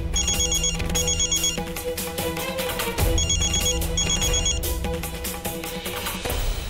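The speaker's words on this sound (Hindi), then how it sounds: "फोन उठाओ।" A telephone ringtone plays loudly as a repeating musical tune with bright beeping notes, cycling twice without pause.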